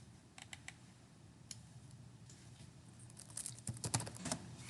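Soft, close keystrokes on a computer keyboard as an SQL select statement is typed, a few isolated taps early, then a quicker burst of clicks toward the end in a quiet room.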